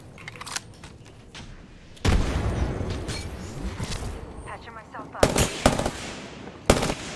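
Gunfire in a video game shooter: rapid automatic bursts and single sharp shots crackle loudly over a dense background of in-game noise, with several heavy bursts toward the end.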